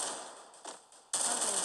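Video game gunfire: a few muffled bursts, then a sudden loud, sustained stream of rapid automatic shots that carries on to the end.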